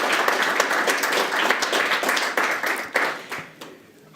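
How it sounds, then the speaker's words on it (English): An audience at a Democratic Town Committee candidates forum in Chelmsford claps for the local telemedia crew, a brisk burst of applause that stays full for a few seconds and then thins and tapers off near the end. "A round of applause for them for setting up."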